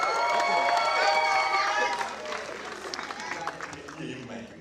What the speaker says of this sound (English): Please can we clap for the cast and crew of Freedom Way?